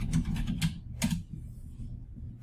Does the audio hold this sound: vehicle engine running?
no